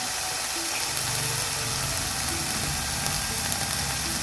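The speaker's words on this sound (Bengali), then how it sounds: "আদা রসুন পেঁয়াজ একসাথে সব কিছু ভালো করে কষা নেব" Ginger, garlic and onion sautéing in a pan, a steady loud sizzle with no pauses.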